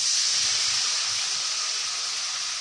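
Water poured into spices frying in a pan for mixed vegetable khichuri sends up a loud, steady hiss of sizzling steam that holds evenly throughout, with no voices.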